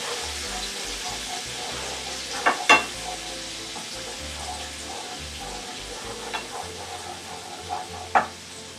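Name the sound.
stirring a frying mixture with a wooden spoon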